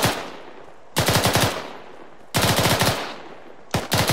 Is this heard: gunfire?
yes